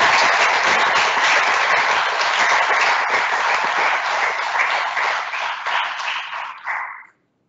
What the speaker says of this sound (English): I would request all of you to give a huge round of applause